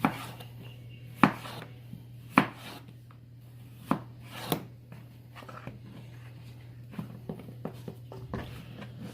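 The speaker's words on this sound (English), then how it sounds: "now we're going to take our cucumber, to cut it thin" A knife slices a cucumber thin on a cutting board, giving a handful of sharp, distinct chops spaced irregularly, then lighter quicker taps near the end, close and alone over a low hum.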